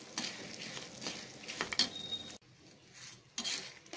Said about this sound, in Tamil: இப்போ உளுந்த பருப்பும் நல்லா வறுபட்டுருச்சு, காஞ்ச மிளகாவும் நல்லா வறுபட்டுருச்சு.